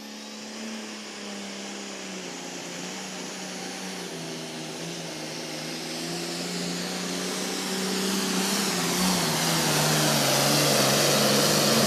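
Daddy's Money, a pulling truck at the Lanesville Heritage Weekend Truck and Tractor Pull, makes its pass with a loud, sustained engine roar that climbs steadily in pitch and intensity over the run, heard from a distance and unaccompanied by talk.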